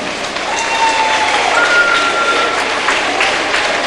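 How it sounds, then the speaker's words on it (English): A gym crowd at a middle school wrestling meet applauds the participants with steady, sustained clapping that swells after a quieter start, along with a couple of faint whistle-like tones. "Let's give all these participants a big round of applause."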